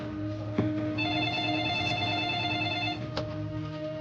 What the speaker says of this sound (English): The phone rings in my office